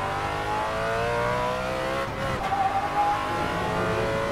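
A Ford Mustang Shelby GT350R on the Tsukuba circuit, its engine droning at high revs, then dropping sharply under hard braking and downshifts before picking up again as it accelerates, loud and close from onboard.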